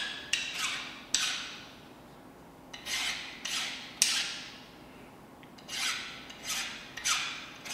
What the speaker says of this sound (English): A quick deburr so I don't get cut.